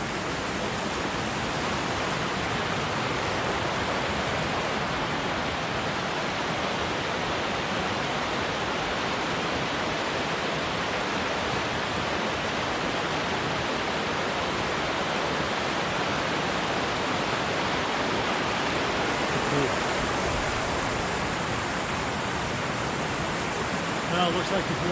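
Water flows beside a woodland trail, a loud, unbroken rushing wash that holds steady throughout, with no voices.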